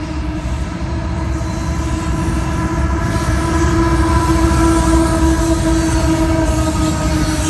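A CSX heritage locomotive in B&O livery rumbles past close by, loud wheels and engine drone with sustained tonal hums rising slightly as it passes.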